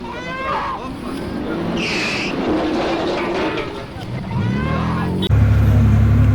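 A car's engine revs as it drives off a ferry in a canal at Dalyan, with rising engine tone, tire squeal and a loud rumbling surge at the end, while people talk over it.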